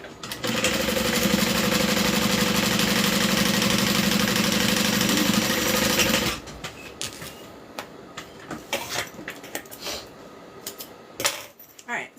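A sewing machine top stitches a bag, running as a steady, close mechanical whir for about six seconds before stopping, followed by quieter handling clicks and rustles of the fabric.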